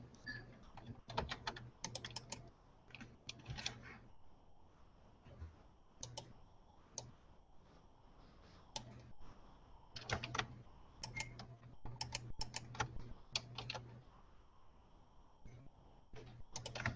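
Someone types on a computer keyboard while working in Blender 3D software. Close, clicky keystrokes come in irregular bursts with brief pauses over a faint steady hum.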